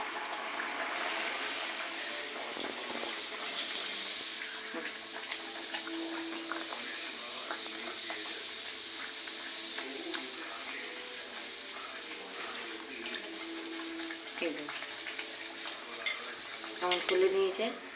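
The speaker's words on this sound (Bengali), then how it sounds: "এবার দেখুন ভেজে নেব। তেলের ওপর দিয়েছি," Mung dal puri, the Bengali Radha Ballavi, fries in hot oil with a steady, close sizzle, broken by occasional stirring and scraping in the pan and a brief louder clatter near the end.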